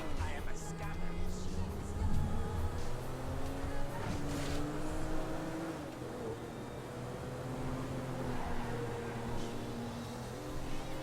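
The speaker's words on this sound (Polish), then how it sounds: "No przynajmniej to jest kurde samochód, a nie to ta furgonetka." A car driven in Grand Theft Auto V, its engine droning steadily with rising and falling pitch through the whole stretch, mixed with other game sounds and someone speaking over it at times.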